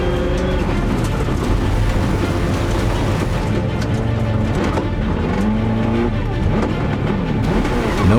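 A rally car spins at high speed after a flat tire from hitting a sharp rock, its engine roaring loudly and continuously with tire squeal and skidding throughout.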